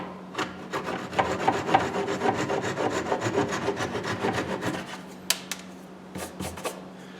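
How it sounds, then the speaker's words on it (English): A flush cut saw works through wood in quick, steady back-and-forth rasping strokes, close and loud, then stops and gives a few scattered scrapes and knocks. "just take a flush cut saw"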